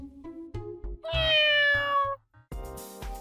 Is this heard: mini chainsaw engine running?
no